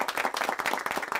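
An audience claps in a brief, dense burst of applause, many hands patting quickly and evenly at moderate loudness, with no speech over it.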